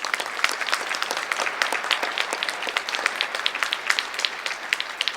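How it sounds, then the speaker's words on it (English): A steady round of audience applause at a Daughters Day event, many hands clapping evenly at moderate volume, continuous and unbroken, with no voices over it. "Let's give them a round of applause, please."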